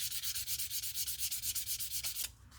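Leather edge being sanded by hand in leathercraft, a steady series of soft rhythmic scraping strokes, about eight per second, close and even, ending with a brief pause and a few lighter rubs.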